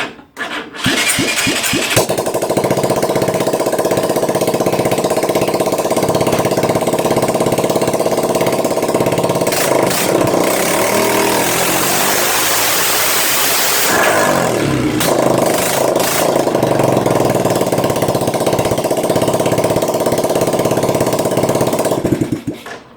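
A Honda ATC three-wheeler fires up after its starter motor rebuild, then runs loud and close, settling into a rough, steady idle with a brief blip of revs midway before cutting off.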